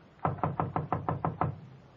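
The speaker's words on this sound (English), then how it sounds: "She knocked on the door of room 12." Eight evenly spaced knocks on a wooden door in a radio drama, firm and close, with no voices over them.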